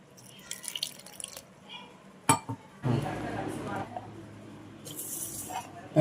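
Water pours into a container over soaking figs and pistachios in a home kitchen, a steady splashing stream in two separate pours, with clinks of the vessels between them.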